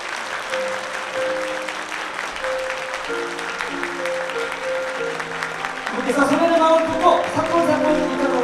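Wedding guests in a convention hall applaud as the bride's parents make their entrance, a dense continuous patter of clapping under music that swells louder near the end.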